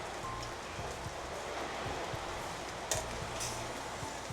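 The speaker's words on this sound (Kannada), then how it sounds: "ಜೋರು ಮಳೆ ಬರ್ತಾ ಇದೆ." Heavy rain pours down steadily outside a home kitchen, a dense even hiss of drops on surfaces with a few louder splats, no voices.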